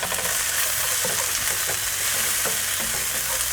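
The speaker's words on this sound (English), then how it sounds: "So the onions have to become slightly transparent, so fry until then" Chopped onions fry in a pan with curry leaves, green chilies and ginger for masala dosa filling: a loud, close, continuous sizzle with scattered crackles and stirring scrapes.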